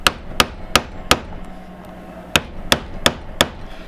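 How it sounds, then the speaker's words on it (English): Hammer blows setting metal rivets on a red quilted cover backed by metal underneath: four sharp, evenly spaced strikes, a short pause, then four more, each crisp and close with nothing else in the background. "now I'm going to set these rivets"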